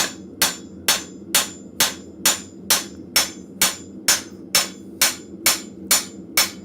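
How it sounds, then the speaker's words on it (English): A hammer strikes metal in a blacksmith forge, about fourteen sharp ringing blows at a steady, even rhythm roughly two per second, close and loud, each with a brief metallic decay. "on the handle of a hammer is not the best way to reseat the head of your hammer"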